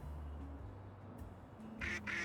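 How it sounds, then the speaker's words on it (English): In the video game Little Kitty, Big City, a duck gives two short, nasal quacks close together near the end. They are faint over low background hum and game ambience. "Sounds like a duck, though."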